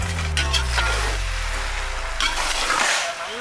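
Cauliflower manchurian sizzles and fries in a pan while being stirred, a steady close hiss with scraping stir strokes running throughout and no talking.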